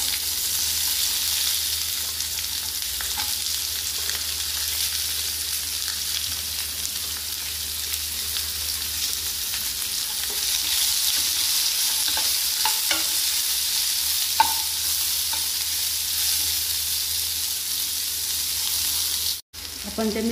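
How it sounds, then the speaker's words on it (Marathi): Onions fry in a pan for egg curry with a steady, loud sizzle that fills the whole stretch, broken by occasional light clinks and scrapes of stirring. "त्याच्यात आता कांदे टाकून घेऊ."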